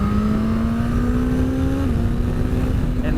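A Suzuki GSX S1000GT motorcycle engine rolls on smoothly with a steady, rising tone and a brief shift in pitch midway, loud and close amid heavy wind rush.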